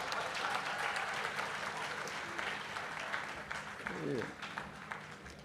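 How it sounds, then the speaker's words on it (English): A crowd at a college launch ceremony claps steadily in sustained applause, with a voice speaking over it partway through. "Let's give him a round of applause."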